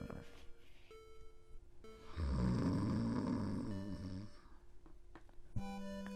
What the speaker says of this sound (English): if a 12-year-old boy started to snore like that, I would be a bit concerned for his health